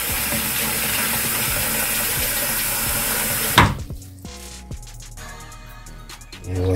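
Water runs from a sink tap in a steady, loud stream, then shuts off abruptly partway through, leaving quiet handling clatter and a faint rising hiss at the end.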